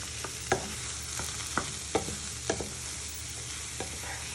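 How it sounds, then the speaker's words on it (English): Onions and garlic sizzle softly in a pan while a wooden spoon stirs them, with a series of distinct scraping knocks spaced about half a second apart over a steady frying hiss. "With your wooden spoon, give them a little toss in so they start to sweat."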